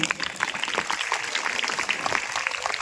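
Students clap together at a school innovation lab prize-distribution event. The applause is dense, steady and fairly close, and it lasts the whole short moment.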